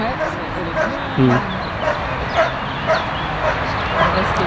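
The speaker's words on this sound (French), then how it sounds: "Elle a commencé déjà à l'aboyer." A dog at a working-dog certification trial barks in a series of sharp, repeated yips and woofs, close by, while people talk over and between the barks.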